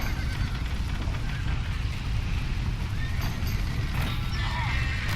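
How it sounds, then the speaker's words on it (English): Horses in a rainy Red Dead Redemption game scene, with hoof clatter and whinnies under a steady, dense rumble of rain and wind, loud and continuous throughout. "Save the horses!"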